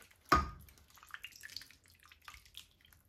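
Canned coconut milk poured into a stew pot, a sharp splash followed by scattered small drips and liquid gurgles, close and fairly quiet.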